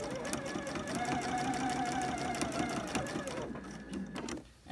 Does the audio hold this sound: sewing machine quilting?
yes